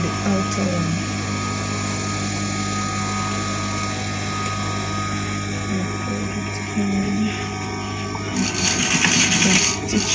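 Sewing machine stitching African top fabric runs as a steady, close mechanical whir throughout, with a brighter, louder burst of stitching near the end.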